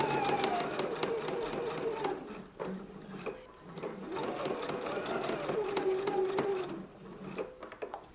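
A sewing machine stitches gingham bodice and facing pieces together at the shoulders, whirring steadily up close in a long continuous run with a brief pause partway.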